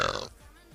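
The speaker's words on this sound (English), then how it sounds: "that's a lady burp" A woman gives a short, low, croaky burp that trails off quickly after a brief moment of her talking.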